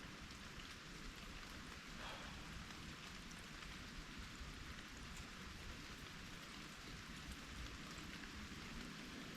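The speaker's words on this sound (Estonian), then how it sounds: "ja ka ülevaltpoolt tuleb vett, vihma." Steady rain pours down, a dense continuous hiss of drops falling on surfaces, even and unbroken throughout.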